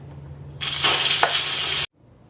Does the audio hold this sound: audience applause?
no